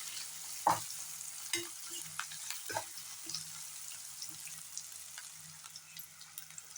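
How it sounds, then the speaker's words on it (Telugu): Onions frying with turmeric in a pan until golden, for a cluster bean fry: a steady, quiet sizzle with a few sharp spatula scrapes and clicks early on, no speech. "వేసి ఈ విధంగా కలిపి మనకి ఉల్లిపాయ అనేది గోల్డెన్ కలర్ వచ్చేటంత వరకు ఫ్రై చేసుకోవాలండి"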